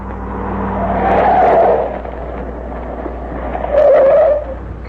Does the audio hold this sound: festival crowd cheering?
no